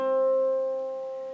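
A single harp string about 1 millimetre thick sounds middle C, ringing as one clear, pure tone that slowly fades.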